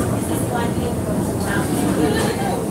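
A steady, loud rumble fills the cabin of a moving passenger train in Albay, Bicol, with continuous rolling track noise and no breaks across the short stretch.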